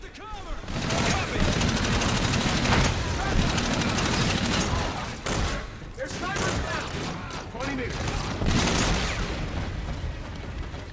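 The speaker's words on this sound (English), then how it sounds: "AA guns are cutting us up" Heavy anti-aircraft gunfire and explosions rattle through a battle in Call of Duty: Infinite Warfare, loud sustained bursts with booming impacts, while soldiers shout over the din.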